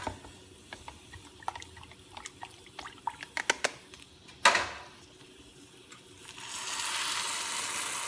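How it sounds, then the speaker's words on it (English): Rice sizzles and crackles in a hot pan, scattered pops and ticks with one loud crack midway, then a steady broad hiss swells for the last couple of seconds. "I can hear sizzle, snack, crackle, pop, just like Rice Krispies"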